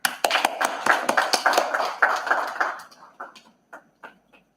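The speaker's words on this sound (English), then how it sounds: "Another round of applause for him" Audience applause at an awards conference as a representative goes up to collect an award, a burst of dense clapping that thins out into a few scattered claps at the end.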